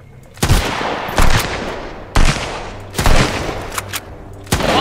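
Loud, close bursts of gunfire in the survival game Sunkenland, five or six sharp shots and short volleys spaced irregularly over a few seconds, with a quiet background between them.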